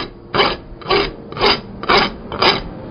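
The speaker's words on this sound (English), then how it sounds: "this rasp is much too coarse to try to file a piece of metal with. But because the metal is still hot, boy, it just saws right through it" A coarse hoof rasp filing a still-hot piece of iron while a spoon is forged, five loud, even back-and-forth rasping strokes close by, with brief pauses between them and no talking.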